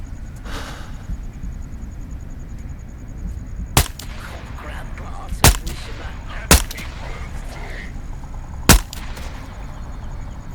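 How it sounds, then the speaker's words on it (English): Four sharp gunshots in the video game Into the Radius 2, spaced irregularly over several seconds against a steady low rumbling ambience, each a loud isolated crack. "Four shots."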